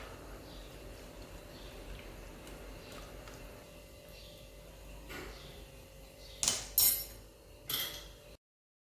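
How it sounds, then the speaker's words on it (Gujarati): A quiet room hum, then a few sharp clinks of a spoon against a bowl near the end as something is mixed. "ચમચીની મદદથી સારી રીતે મિક્સ કરી લેશું"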